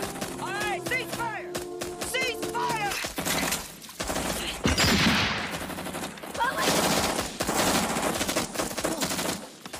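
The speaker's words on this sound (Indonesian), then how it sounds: "serangan itu menyebabkan Brownie tertembak dan kehilangan banyak darah" War-film attack gunfire near a village by rice fields: bursts of machine-gun fire and scattered shots, loud and close, with shouting voices early on.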